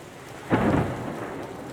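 Thunderstorm with rain over a dark, rough sea: a single low thunder rumble swells abruptly and fades over a steady, soft hiss of falling rain.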